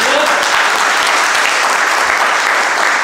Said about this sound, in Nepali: हालेलुया ताली बजाएर प्रभुलाई धन्यवाद